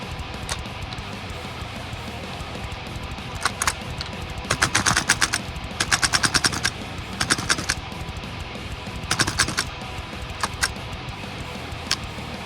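A VFC V3 airsoft gun fires a magazine into dirt outdoors in the cold, loosing bursts of sharp rapid shots in several strings with pauses between, over a steady background of wind or ambient noise.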